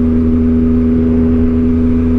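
A dusty, little-used motorcycle rides through Davao City, its engine holding a steady mid-pitched hum with a strong constant tone, loud and close throughout with no talk.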